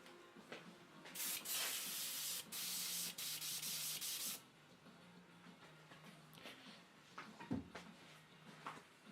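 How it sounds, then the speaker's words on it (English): A lacquer airbrush sprays paint in a few sustained hissing bursts of about one to three seconds each, loud and close, separated by quieter pauses with faint handling noises. "this is my lacquer airbrush"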